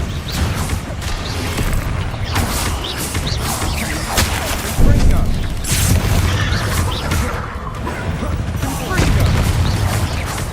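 Expelliarmus spell cast during combat in the Hogwarts Legacy video game, heard amid a loud, busy battle mix of booms, crashes and magical impacts, with one sharp burst standing out near the middle.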